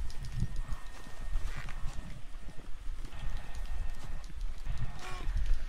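Horse hooves in a video game, a continuous run of clip-clop steps at a steady gait heard fairly close, with no voices.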